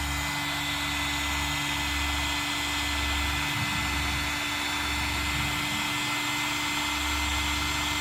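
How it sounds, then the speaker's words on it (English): Heat gun running steadily during a windshield washer pump replacement, a continuous close airy roar with a low pulsing hum underneath, no talking. "Wait for the heat gun to warm up."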